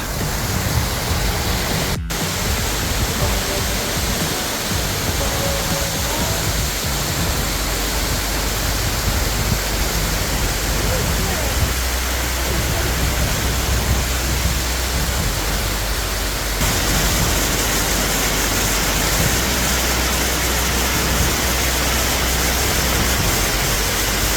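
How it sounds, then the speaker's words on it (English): Waterfall on a hiking route in the Colorado mountains, a steady broadband roar of rushing water that fills the whole clip at close range with no break, loud and constant from start to finish. "We gotta climb this waterfall right here."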